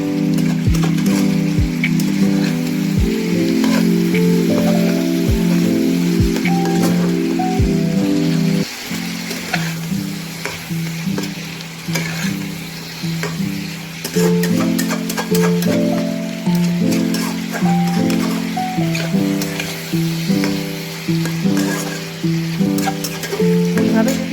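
A fish head sizzles in hot oil and spices in a pan while it is stirred, then dal is poured in and the frying hiss softens. Steady, close sizzle runs throughout under background music.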